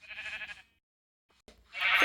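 A sheep in a video game bleats twice, a wavering nasal cry up close, then a short silence before a second, louder bleat rises at the end.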